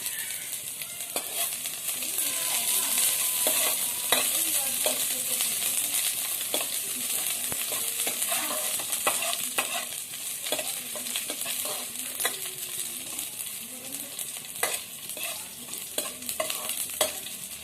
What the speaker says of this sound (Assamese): অলপ ভাজি ল'ম